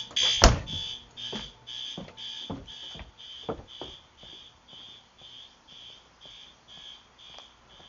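A home fire alarm, pulled during a full initializing test, sounds continuously as a high electronic tone with a steady pulsing pattern. Sharp clicks and knocks come through beneath it, and the alarm stays moderately loud and indoors.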